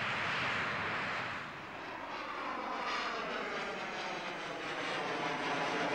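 XB-70 prototype 2 jet aircraft rumbles overhead, a broad, loud, steady roar with a slight dip before it swells again, heard alone without voices.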